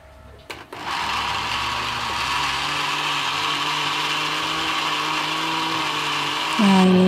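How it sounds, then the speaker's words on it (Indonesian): A blender whirs up after a brief clatter and runs steadily at high speed, blending ingredients with a little added water, a loud continuous motor drone that shifts pitch near the end. "lalu tutup dan blender juga"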